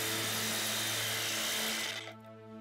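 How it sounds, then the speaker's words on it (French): A reciprocating saw cutting through an animal's sternum buzzes loudly and steadily for about two seconds, then cuts off abruptly, leaving a quieter hum. "L'utilisation d'une scie va-et-vient vous facilitera grandement la tâche"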